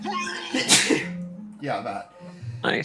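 A single sharp sneeze bursts out between stretches of casual talk at a tabletop game session, a sick player sneezing close to the microphone.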